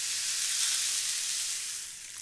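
Rain stick tipped to imitate rain in a music session, giving a continuous close, steady hiss of trickling pellets that fades slightly at the end.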